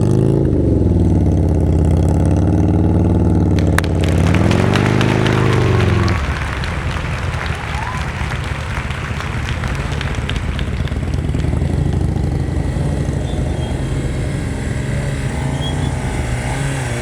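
A motorcycle engine runs close by during a riding lesson, a loud steady idle with wavering revs that swells, then drops into a rougher, noisier running sound with clatter.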